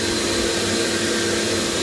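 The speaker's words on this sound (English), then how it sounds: "So this here is to suck, so you get a sucking, get the venturi going, get the siphon going." Air rushes through the venturi suction of a Hafco SB 990 blast cabinet as a steady, loud, close broadband hiss with no break.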